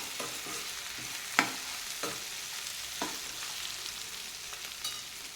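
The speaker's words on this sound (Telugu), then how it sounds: "ఇప్పుడు ఇందులో కొంచెం కొత్తిమీర అలాగే కొంచెం చింతపండును కూడా వేసి రెండు నిమిషాలు మగ్గనిద్దాము" Tomato and ridge gourd curry sizzling in a pan, with a steady crackle and a few sharp clinks of a spoon stirring against the metal.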